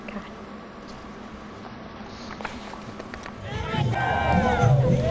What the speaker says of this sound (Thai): เสียงคลึกครื้นของดนตรีพร้อมกับเสียงโห่ร้องของชาวบ้าน